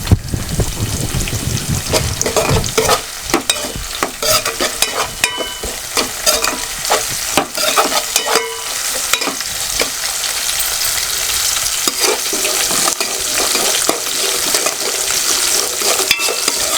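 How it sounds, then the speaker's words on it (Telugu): Onions and green chillies sizzle loudly in hot oil in a village-style kitchen, with a spoon scraping and stirring through the pan in steady, busy bursts, close and continuous with no talk. "ఇప్పుడు ఇందులో కొంచెం ఉల్లిపాయలు వేసుకుంటున్నాం"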